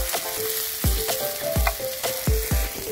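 Pork belly sizzles and crackles steadily on a grill at an outdoor campsite meal, a dense close frying hiss broken by repeated soft pops and spatters, with no voices over it.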